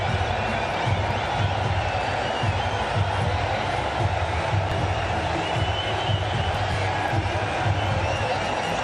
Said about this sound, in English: With that 6, it's brought the crowd to its feet.